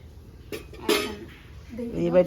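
A lid set onto a cooking pot while making pitha in a home kitchen: two short metallic clinks close by, with talk and kitchen noise around them.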